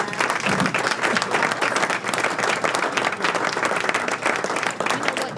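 A studio audience claps continuously for over five seconds, a thick, even wash of many hands with a few voices faintly audible beneath.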